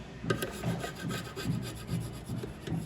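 A flat-tip screwdriver scrapes plaster build-up off a brass blade holder retainer, making a steady, close rasping stroke repeated several times in quick rhythm.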